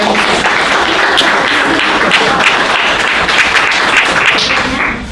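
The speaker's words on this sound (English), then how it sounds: "let's give a round of applause to Lindy for coming in" Loud, sustained applause from an audience, dense clapping filling the room steadily before tapering off at the end.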